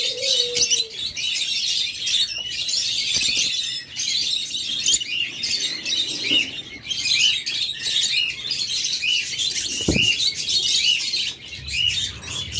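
Caged orange-headed opaline lovebirds chirp continuously in dense, overlapping high tweets, with a few louder calls standing out, close and fairly loud with no talk.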